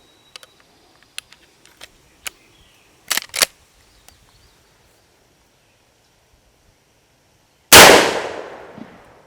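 A single loud .44 Magnum revolver shot firing a Buffalo Bore 305 grain bullet outdoors, a sharp close crack with a long decaying echo, preceded by scattered faint clicks and handling knocks.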